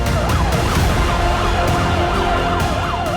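An ambulance siren wails loud and close, its pitch sweeping up and down in a steady repeating cycle over traffic rumble, with no voices.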